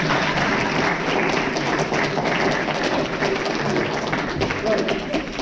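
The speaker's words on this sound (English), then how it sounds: "Round of applause for Mum for being the deepest sleeper ever." Sustained applause from a college audience at a live talk, a dense continuous clatter of many hands clapping at an even, loud level for the whole stretch, with some murmured voices underneath.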